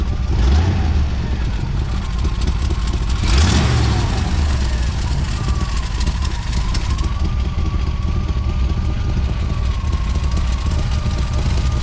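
A 454 big block V8 swapped into a Honda Civic idles loudly and close by once the choke is off, a deep rumbling lope with a brief swell near the start and a faint whine riding above it.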